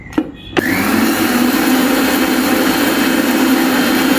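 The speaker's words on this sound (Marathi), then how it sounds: "थोडेसे ओट्स घेतलेत आणि हे मिक्सर ऑटो काढून घेऊ बारीक पेस्ट एकदम" A kitchen mixer grinder whirs loud and close as it blends oats into a fine paste, starting after a brief knock and then running at a steady, high-pitched drone with no voices.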